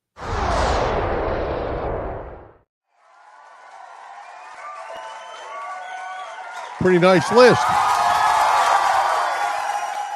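A crowd cheers and claps as a sound effect, a bright burst of applause and whoops swelling up after a short spoken line and continuing loudly to the end.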